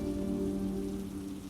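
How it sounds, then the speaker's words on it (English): Rain falling in an animated story scene, a steady soft patter on surfaces with a low, even hum beneath, moderately quiet and continuous without speech. "Jonathan stared out into the rain"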